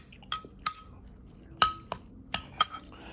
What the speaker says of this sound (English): Okay, stir.